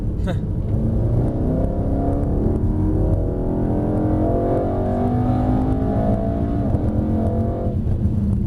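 A Mercedes-Benz AMG E63s Estate accelerates with a deep, steady engine rumble heard from inside the cabin, its rising pitch climbing smoothly throughout, with people talking quietly at times.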